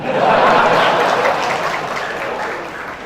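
An audience at a mushaira in Mumbai bursts into sustained applause, a dense wash of clapping that peaks early and slowly tapers off over a few seconds, with a little laughter mixed in.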